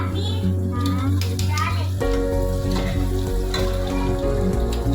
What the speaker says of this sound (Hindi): और किचन में खाना बन रहा है